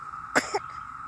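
A single short sneeze in the middle of a steady cicada drone outdoors, a sharp burst followed by a smaller second catch, fairly close.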